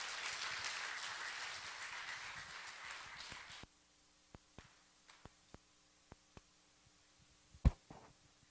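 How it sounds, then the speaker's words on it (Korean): A church congregation at a Sunday evening service applauds, a dense wash of clapping for about three and a half seconds that cuts off abruptly, followed by a few isolated claps and a louder knock. "박수 한번 드려."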